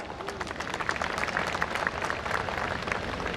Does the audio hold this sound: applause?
yes